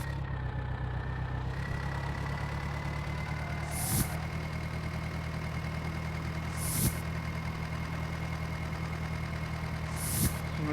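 A fully loaded tractor in a tractor video game drones along with a steady, continuous engine hum, punctuated roughly every three seconds by a brief hissing burst.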